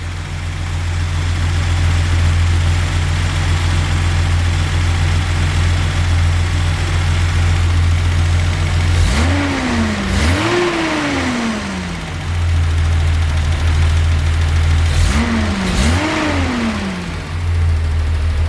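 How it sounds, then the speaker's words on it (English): A 1982 Datsun 280ZX with a ceramic-coated header and straight exhaust idles steadily with a loud, raspy note, then is revved hard twice in quick double blips, each settling back to a rumbling idle. "here's what the exhaust sounds like."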